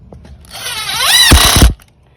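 A power drill drives a screw while house lights are being installed: one short, loud, close burst whose motor pitch rises as it spins up, then a few rough clicks as the screw seats before it cuts off.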